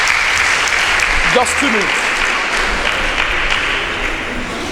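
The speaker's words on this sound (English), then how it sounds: "A round of applause for them, please." Audience applause for a school team at a Nigerian debate on regional government, a dense steady clapping crowd throughout, with a brief spoken remark from a voice riding over it early on.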